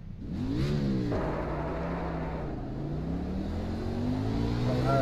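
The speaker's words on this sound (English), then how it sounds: "sounds like a real car" Race car engine in iRacing at an oval event at Indianapolis, a loud steady drone that climbs in pitch, drops suddenly at a shift, then rises smoothly again, continuous and close.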